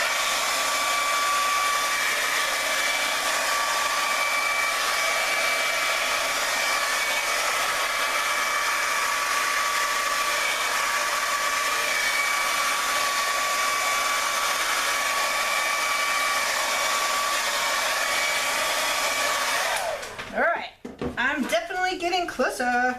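A blow dryer pushes poured white acrylic paint across an 8x8 canvas, a loud, constant whooshing roar that runs for about twenty seconds before cutting off, followed by brief handling clatter.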